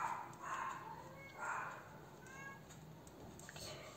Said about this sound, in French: les petits chiens là, ils s'arrêtent pas